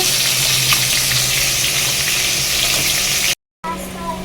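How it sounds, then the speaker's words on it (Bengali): Koi fish frying in hot oil gives a loud, dense, crackling sizzle up close, broken by a brief moment of silence before the sizzling resumes. "মাছ ভাজা বসানো হয়ে গেছে"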